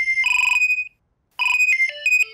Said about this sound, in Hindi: मोबाइल, मोबाइल किसका बजा?